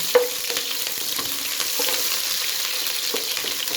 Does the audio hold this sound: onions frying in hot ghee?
yes